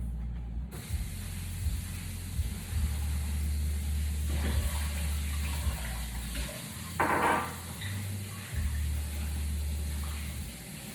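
Chickpeas are rinsed under a running kitchen tap, a continuous hiss and splash of water into a sink with brief surges of louder splashing midway, close by and without speech.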